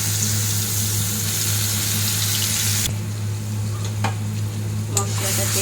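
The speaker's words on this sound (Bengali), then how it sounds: "তেলটা আমার গরম হয়ে এসছে, এবার আমি কড়াইতে মশলাটা দিয়ে দিই" Spices hit hot oil in a wok and set off a loud, steady sizzling hiss that fills the whole stretch, with a few light clicks of stirring toward the end.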